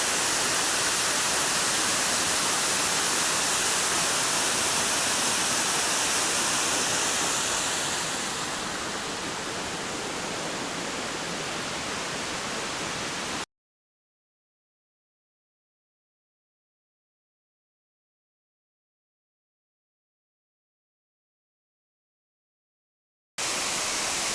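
Ramona Falls, a waterfall on the Pacific Crest Trail, roars as a loud, steady wash of falling water. It stops abruptly for about ten seconds and then comes back.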